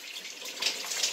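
Running water pours steadily over hair during a rinse, a brief soft hiss of flowing water close by.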